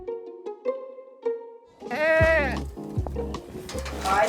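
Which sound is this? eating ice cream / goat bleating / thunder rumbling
goat bleating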